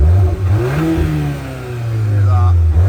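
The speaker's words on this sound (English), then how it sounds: "You can hear the engine. Let's just give it a little bit of a pop," Petrol engine of a Volkswagen Golf R Black Edition hatchback with DSG and 4Motion revs up and falls back, a close, loud throaty rise and dip under some nearby talking.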